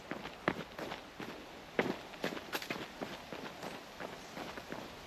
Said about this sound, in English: the heavy footsteps there of some of the runners. Sounds like they're coming downhill, actually.